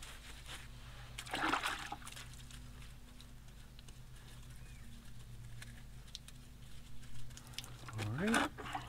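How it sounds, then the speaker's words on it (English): A car is wiped down by hand with a sponge and water, giving soft wet splashes and dribbles in two brief bursts against a quiet outdoor background with faint bird calls. "I'm gonna just wipe it down with some sponge and water"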